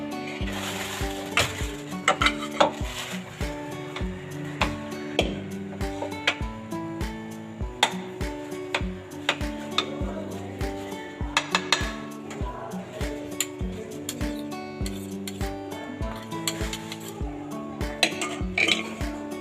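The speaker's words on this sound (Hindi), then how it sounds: "इसको हम एक बोल में डाल देंगे ठंडा करने के लिए।" Gulab jamun being scooped from a pan into a bowl to cool, heard as a steady run of light metallic clinks and taps of utensil against cookware, close and moderately quiet, with no talking.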